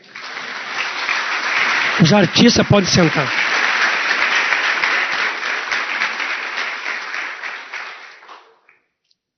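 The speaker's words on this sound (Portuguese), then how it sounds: "uma salva de palmas para Jesus, amém?" Sustained applause from a church congregation fills the room, steady dense clapping for about eight seconds before it stops abruptly, with someone speaking briefly over it near the start.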